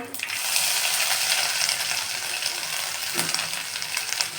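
Curry leaves and garlic-ginger paste frying in hot oil for dal baati, a loud, dense, continuous sizzle heard close up with a few faint clinks.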